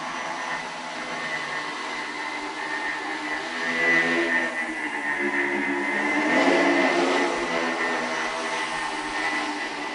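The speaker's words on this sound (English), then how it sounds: "When you put them together, they behave like one high-performance quadricopter." Two linked two-propeller flying machines hover as one quadricopter, giving a steady, close, whining propeller buzz that swells slightly midway and holds throughout, with no voices.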